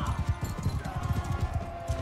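A horse gallops in the Mount and Blade Bannerlord video game, giving a quick, steady clatter of hoofbeats inside a busy battle soundscape of constant noise.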